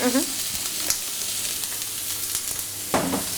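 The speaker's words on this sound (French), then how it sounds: "Mais c'est très rapide en fait la cuisson de la Saint-Jacques. C'est recto verso." Scallops sear in a hot pan, cooked about one minute per side, giving a steady close sizzle with a few brief clatters and crackles on top.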